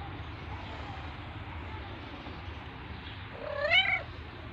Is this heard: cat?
yes